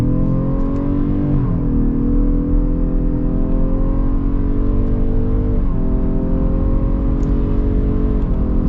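A 2021 Ford Explorer Hybrid accelerates hard in sport and manual mode, its engine droning loud and close with steady climbing revs broken by two quick shifts, heard from inside the cabin.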